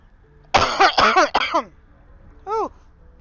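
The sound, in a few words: coughing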